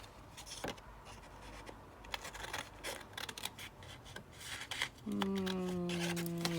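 Scissors snip through paper to cut out a letter B for a small Easter basket craft, several close, crisp cuts in quick succession, ending in a short steady hum.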